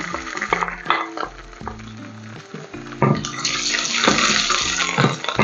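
Ginger and garlic sizzle and crackle in a hot pan, a steady frying hiss that swells louder partway through, with music playing underneath.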